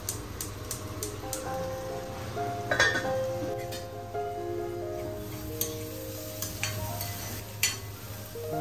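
Sardine fish curry cooking in a pot over a medium flame, with a steady low simmering bubble and scattered light clinks of utensils against the vessel.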